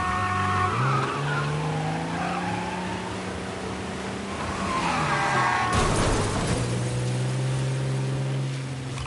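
In the Mafia video game, a car's tires squeal in a long skid under a droning engine, then a loud crunching crash hits, followed by the engine still humming.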